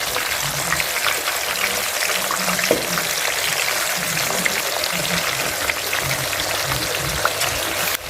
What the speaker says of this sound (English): let's fry our dodo